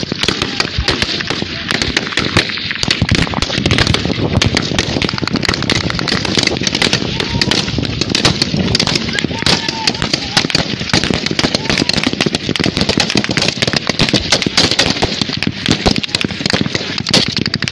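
Rapid, dense bursts of gunfire crackle continuously as Nigerian soldiers fight Boko Haram positions, loud and close, with shouting voices mixed into the firefight throughout.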